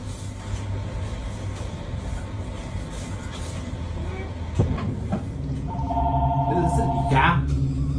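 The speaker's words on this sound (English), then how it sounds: "And then the freaking phone rings." A telephone inside a clinic rings with a steady electronic tone late in the stretch, over constant rumbling background noise and faint voices.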